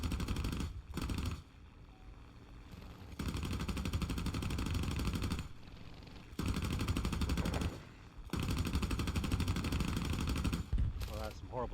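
Machine guns of a P-51C Mustang fighter in War Thunder: long, dense rattling bursts fire in several sustained stretches separated by brief gaps, loud over the steady drone of the aircraft engine.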